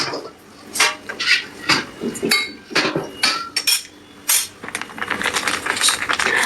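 Metal wok being washed in a sink, with sharp clanks and scraping knocks in irregular bursts, close and fairly loud, then a rushing, running-water texture near the end.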